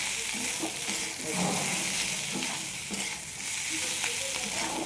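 Fish head and potatoes sautéed in a pan, a loud continuous sizzle broken by repeated scraping stirs from a spatula, close and busy throughout with no voices.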